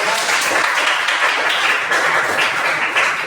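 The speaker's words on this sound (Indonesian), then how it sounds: "kasih tepuk tangan untuk kelompok" Steady, dense applause from a classroom crowd for a group of students, loud and close throughout without a break.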